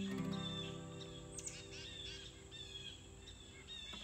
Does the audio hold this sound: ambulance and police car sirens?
no